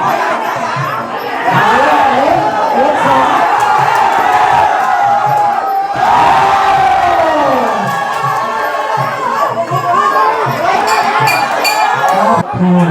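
Loud crowd at a rural Muay Thai boxing bout in Thailand cheering and shouting in waves, with chanting voices rising and swelling throughout and a brief lull partway through.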